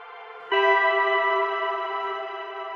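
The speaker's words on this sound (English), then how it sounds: "these give you that very atmospheric type of reverb" A sustained synth tone swells in at once and hangs in a wide, shimmering wash of reverb, slowly fading but never cutting off.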